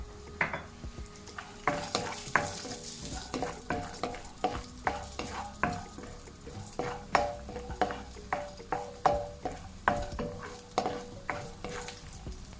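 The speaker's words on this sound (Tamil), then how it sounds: "கஜு அரைவாசி பொரிஞ்ச உடனே முந்திரிய வத்தலையும் ஆட் பண்ணுவேன்" Cashews and raisins fry in ghee while a spoon stirs and scrapes the pan in a repeated rhythm, with quiet sizzling underneath; no talking.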